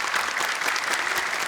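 Studio audience at a Quran memorization contest show claps loudly and steadily for the panel of judges, a brief, thick burst of many hands with no letup.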